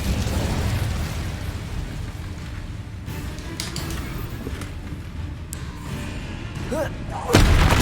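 Incendio fire spell cast repeatedly in the video game Hogwarts Legacy, a rough, roaring run of blasting, crackling bursts that carries on without a break and ends in a sudden louder whoosh.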